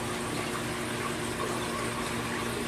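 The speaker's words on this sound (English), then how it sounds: "that spray bar shooting water across the top of the Refugium" Water from a spray bar shoots across the top of a saltwater reef aquarium refugium in a garage fish room, a steady close rushing splash with no pauses.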